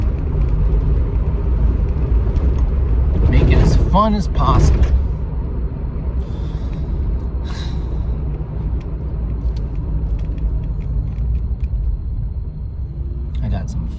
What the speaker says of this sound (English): I'll load my car again, head out to the Catskills.